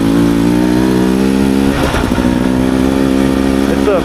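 A Beta 300 Xtrainer motorcycle's engine climbs a gentle hill, holding a loud, steady, close droning rev with a brief throttle blip midway, and the tone stays sustained throughout.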